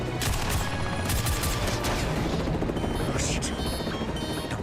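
A helicopter roars loudly during a chase scene from Mission Impossible Fallout while bursts of gunfire crackle over the dense rotor noise, continuous and close.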